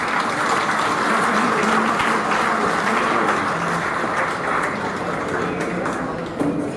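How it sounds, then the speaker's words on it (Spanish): A large audience applauding for a godfather, Oscar H., at a gathering, with dense, steady clapping that stays loud and continuous throughout, faint voices mixed in beneath. "Un fuerte aplauso para el padrino."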